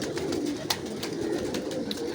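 Several pigeons in breeding cages coo in low, throaty, overlapping calls, a continuous close murmur with a faint flutter or knock here and there.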